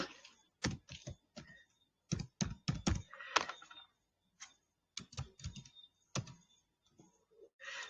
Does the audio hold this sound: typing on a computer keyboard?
yes